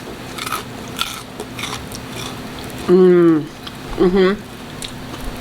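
A few crisp, crunchy bites of air-fried food sound close to the microphone, followed by two short voiced exclamations from someone eating.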